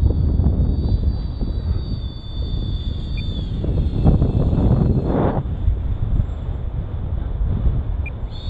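A 70mm electric ducted fan E-Flite F-16 Thunderbird RC jet flies in high wind, its steady whooshing fan whine held under continuous heavy wind buffeting on the microphone, with no voices.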